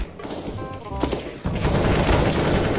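Gunfire in the video game CS:GO comes as a short burst of shots, then a dense, sustained rattling fusillade that stays loud to the end.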